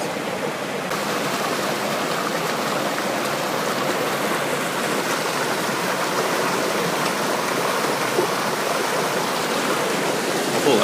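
Pistyll Rhaeadr, a tall waterfall in North Wales, roars as a steady broadband rush of falling water, close and continuous for the whole stretch with no voices.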